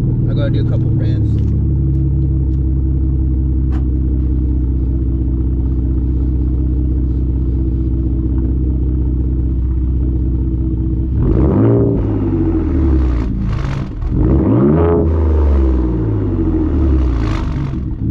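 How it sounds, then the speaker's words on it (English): A 2020 Ford Raptor with an aftermarket exhaust rumbles at a steady loud idle, then revs hard twice with rising, swelling roars that fall back, recorded close outdoors. "that's kind of how it sounds when you rev it and get after it"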